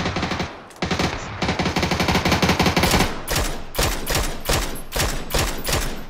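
Rapid automatic gunfire in the video game PUBG, a loud dense burst followed by a string of evenly spaced heavy shots, close and alone.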